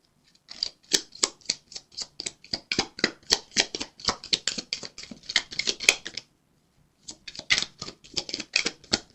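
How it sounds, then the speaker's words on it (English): A deck of tarot cards is shuffled by hand in quick runs of crisp riffling clicks, close and fairly quiet, with a short pause before a final burst. "I kind of shuffle the cards funny"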